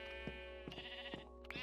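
Several sheep in a Minecraft sheep farm bleat in short, repeated calls over a steady faint hum, some overlapping, and nobody speaks.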